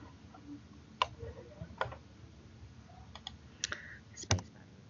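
Someone types on a computer keyboard in a quiet room. Sparse, crisp key clicks and a few heavier spacebar taps come through close and fairly faint, with no talking.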